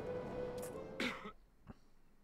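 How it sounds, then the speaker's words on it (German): A man coughs and clears his throat in a medieval village setting in Medieval Dynasty, a short rough burst followed by a faint second cough, heard close. "Jetzt hat er mir auch noch ins Gesicht gehustet."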